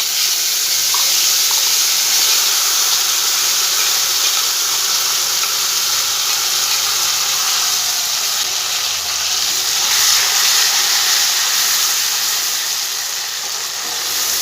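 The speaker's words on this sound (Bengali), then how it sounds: "এবার বেটে রাখা মশলাটা আমি এর মধ্যে দিয়ে দেবো" Ground spice paste sizzles and fries in a pan on a gas stove for a Bengali begun kofta (eggplant kofta), a steady loud hiss running throughout without pause.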